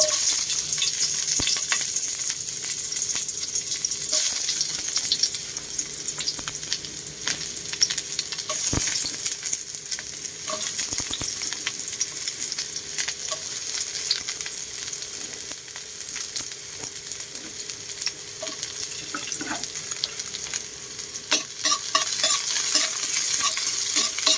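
Onion sizzling and frying in a hot pan with steady crackle, broken by frequent scraping stirs and occasional utensil knocks, close and continuous with no talking.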